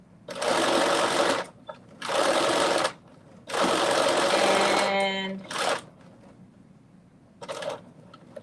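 A home sewing machine stitches fabric in three long bursts with short pauses between, then a brief hum and a short final burst; speech is faintly present around the runs.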